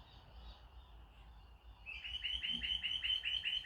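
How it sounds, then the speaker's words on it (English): Birds outdoors sing a rapid series of bright, repeated chirps that start partway through and continue steadily, heard at a moderate distance over a quiet room. "Beautiful birds outside."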